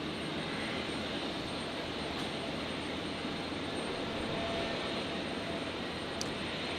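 A Qantas airliner rolls for takeoff on runway 01 right at Brisbane on a stormy night, a steady, broad jet roar holding at even loudness throughout without pause.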